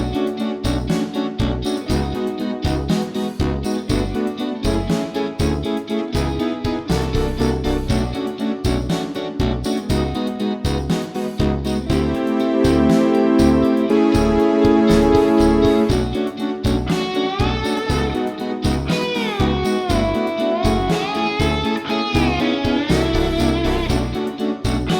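Guitar reharmonization of an animated series' ending credits theme in a video game fanfare style, playing as a full, loud, rhythmic arrangement with punchy repeated chords and a melody on top, no talking.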